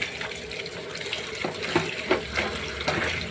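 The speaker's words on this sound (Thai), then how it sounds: "สระแหน่สดจากตลาดนำมาล้างก่อน" Tap water pours over fresh mint leaves from the market as they are washed in a sink, a steady nearby stream with soft splashes and leaves being handled, with no one speaking.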